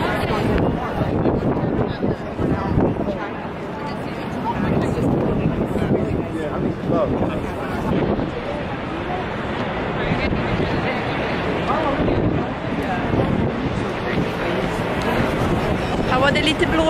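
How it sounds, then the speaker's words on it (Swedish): Wind buffets and rumbles against the microphone outdoors at Times Square in New York, a steady blustery roar over which a person keeps talking throughout. "Här var det lite blåsigt."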